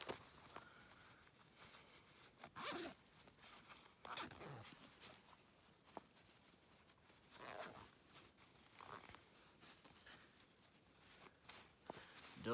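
A zipper on a pair of pants is worked open outdoors while bikepacking, giving faint, brief rasping bursts spread across the stretch among rustling and handling noises, with no speech.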